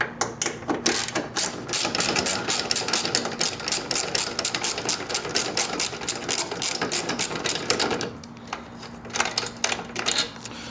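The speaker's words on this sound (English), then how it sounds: "Okay, I got all the screws off." Headlight screws on a Nissan Altima coupe are backed out with a power driver, a fast, buzzing ratchet-like whir running almost continuously, briefly easing before short final bursts, close and fairly loud.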